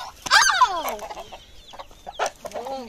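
Chickens cluck and squawk close by in short, uneven bursts, with a few sharper calls standing out over a quiet background.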